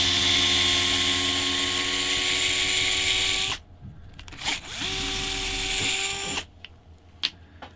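A power tool whines loudly and steadily while removing a knuckle from an Axial Ryft RC car. It stops, then runs again in a second burst, and a few small clicks follow.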